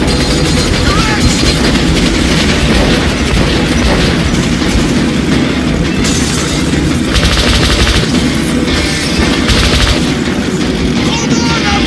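A train rolls by in the video game Metro: Last Light, a loud, continuous rumble and clatter that fills the whole stretch, mixed with dense game noise and brief voices.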